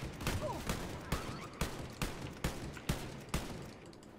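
Gunfire in the video game Wolfenstein Youngblood: eight evenly spaced sharp shots crack out about every half second, fairly faint within game ambience and without talk.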